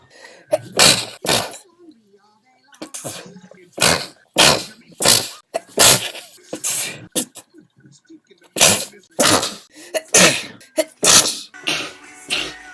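Repeated human sneezes in quick bursts, loud and close, some in clusters of two or three with short pauses between, with a few faint voices in between.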